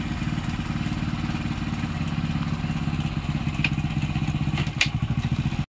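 Two motorcycles being taken across a dug-up railway line on a deserted highway, an engine chugging steadily at close range with a rapid low pulse, light clatter and a couple of sharp knocks near the end.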